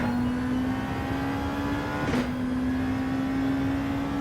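A race car in Gran Turismo 7 drives in the rain, its engine holding a steady loud drone with a brief surge midway, a constant hiss of spray and road noise beneath.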